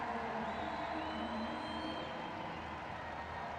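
A distant stadium crowd at a professional women's soccer match, OL Reign against Gotham FC, sends up a steady wash of applause and cheering as a player is substituted off, with a faint whistle-like tone above the roar.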